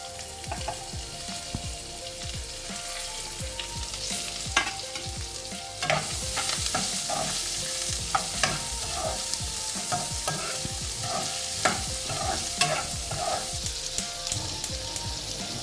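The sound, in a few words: frying onions with asafoetida in a pan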